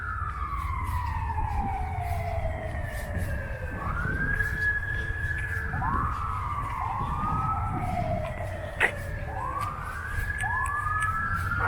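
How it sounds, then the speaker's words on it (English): An emergency vehicle siren wails in repeated rising and falling sweeps at moderate distance, steady throughout over a low background rumble, heard near graves in a cemetery during the 2024 solar eclipse. "not that you could tell with that damn siren"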